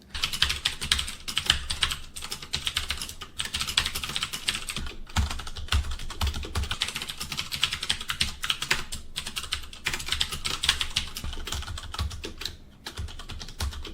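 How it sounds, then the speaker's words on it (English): Steady, fast typing on a HyperX Alloy Core RGB membrane gaming keyboard, soft muffled key presses in a continuous close-up stream with no talking. "there's not going to be a very loud tactile noise as you press down on the keys"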